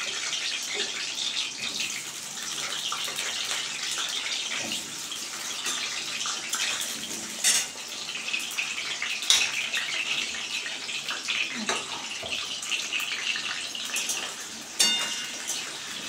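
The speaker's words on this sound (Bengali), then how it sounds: "তো বন্ধুরা এখন আমি আলুগুলো ভেজে নেব" Potatoes fry in oil in a kadai with a dense, bubbling crackle heard up close, steady throughout with occasional sharper pops.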